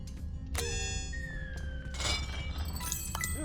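Glass shatters in the video game Rogue Heroes: Ruins of Tasos as a glass boomerang breaks, with bright ringing tones and crashing bursts over a low, steady game soundtrack.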